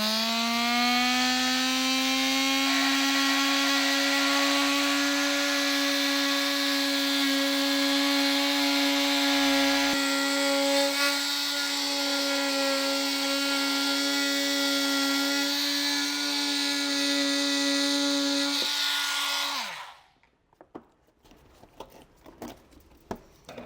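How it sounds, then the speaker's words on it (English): An oscillating multi-tool cuts through a plastic bumper fascia on a 2020 Volvo XC90 for a trailer hitch, a loud, steady, high buzzing whine lasting about twenty seconds before stopping, followed by faint handling clicks and no talking. "I like to use a multi-tool to cut these out"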